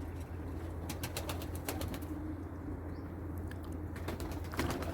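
A pigeon flaps its wings in a series of quick bursts while landing outdoors, with steady background noise and no talk.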